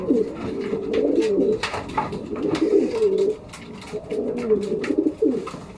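A racing pigeon coos in repeated low rolling phrases, close and clear, with short pauses between bursts and some light tapping noise behind.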